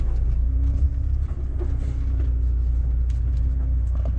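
A truck engine idles as the vehicle is parked beside a village road while delivering a load in Europe, a steady low rumble with a faint hum that stays constant throughout, with no talk.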